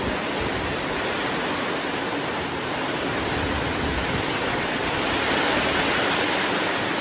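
Very heavy rain pours down during a downpour, a loud, dense, unbroken roar of water that stays constant throughout with no voices.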